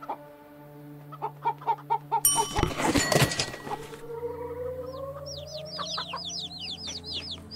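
A video game soundtrack of chickens and chicks, a run of rhythmic clucks, then a burst of noisy flapping, followed by a rapid series of high chirps, all moderately loud with no talk.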